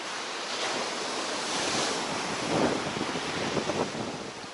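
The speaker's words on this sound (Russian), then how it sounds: "Какой гребень идет волна." Stormy Baltic-style sea surf at Zelenogradsk, waves rolling and breaking on the shore in a steady, loud roar with gusting wind buffeting the microphone; a heavier crash swells near the middle.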